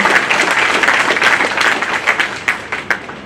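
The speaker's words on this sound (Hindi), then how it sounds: "जोरदार तालियों से मैं उनका स्वागत करना चाहूंगा।" Loud, sustained applause from an audience welcoming a newly introduced speaker at a bar council legal cell gathering, dense clapping throughout with a few sharper claps standing out near the end.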